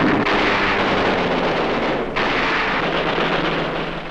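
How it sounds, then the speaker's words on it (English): Heavy blasts roar and rumble continuously as an anti-aircraft tower is blown up in a 1944 air raid in the Philippines, a thick wall of explosive noise with a second surge partway through, loud and dense. "An anti-aircraft tower is blasted."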